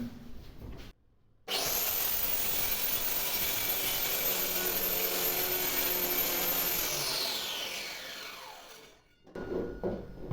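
A power cutting machine slices a thin piece of wood at a 45-degree angle: a loud, steady high-pitched whine runs for several seconds after a brief start, then winds down as the blade slows, with no talking.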